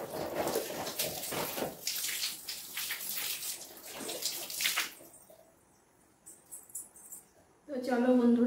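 Clothes being soaked in water for washing in a home setting, with splashing and sloshing water through the first half, a quieter spell, then a burst of running water at the end, while someone talks over much of it.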